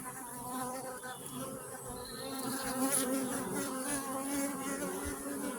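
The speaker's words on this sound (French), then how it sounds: "Pas mal de jeunes abeilles." Dense, steady buzzing of many honeybees swarming around a hive, close and continuous throughout.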